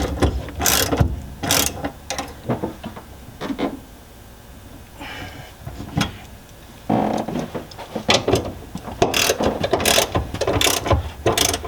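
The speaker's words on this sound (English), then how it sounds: "Tighten the bolts back down." A ratchet tightens bolts on a long gun box in a Toyota Tundra, with bursts of rapid clicking close by, pauses between strokes and a clunk or two, alone without talk.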